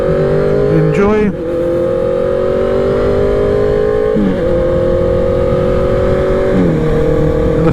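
A LAMS Honda CB650R ridden at midnight in Sydney with the exhaust baffle still fitted, a steady engine hum that drops and climbs through several gear changes, with a rider talking briefly near the start.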